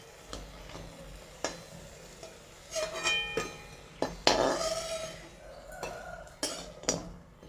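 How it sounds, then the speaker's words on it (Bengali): Fried potato fritters lifted from hot oil and set onto a plate: close, intermittent clinks and scrapes of utensils against cookware over a light frying sizzle, with no talk. "এবার একটা প্লেটের উপর তুলে রেখে দিচ্ছি।"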